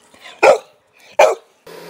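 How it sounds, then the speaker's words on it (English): A dog barks twice, sharp and close, with a short pause between the two loud barks and quiet around them. "And there's my dog Casper."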